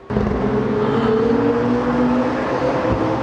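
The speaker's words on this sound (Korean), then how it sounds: "혹시 소리 들리세요? 지금 안쪽에 트랙에서 테메라리오들이 달리고 있거든요" A loud, steady engine roar from Lamborghini Temerario sports cars running on a nearby track, a sustained droning rev that holds level for a few seconds.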